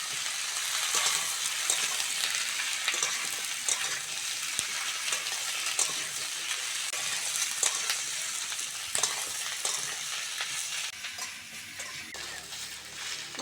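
Cabbage and potato frying with onion in a pan give a loud, steady close sizzle that runs unbroken, with light stirring crackles throughout.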